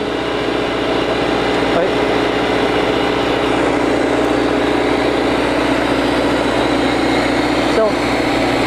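The gas-fueled engine of a Power Pallet runs steadily nearby with a loud, continuous drone and hum. Someone talks over it the whole time.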